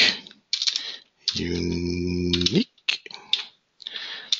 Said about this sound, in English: there's some typing